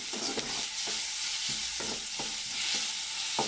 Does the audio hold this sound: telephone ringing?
no